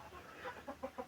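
Faint, soft clucking from chickens, a few short repeated calls coming in quick bursts against a quiet background.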